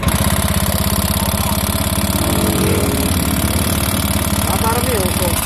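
A Honda Beat FI scooter engine idles on its stand, a loud, close, steady rapid putter that runs without a break while someone talks over it.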